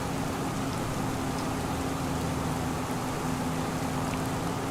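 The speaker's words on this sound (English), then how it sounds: "it's raining" Rain falls steadily on a dairy farm, a dense, even hiss of drops on surfaces alongside a faint low hum, with no talking.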